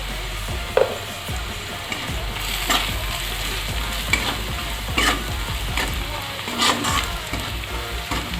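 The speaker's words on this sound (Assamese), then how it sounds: "এতিয়া এইখিনি 2 মিনিটমান সময় ভাজি ল'ম" Spices for a fish curry with raw mango sizzle steadily in a hot pan while a spoon stirs and scrapes, giving repeated knocks and clatters over continuous loud frying.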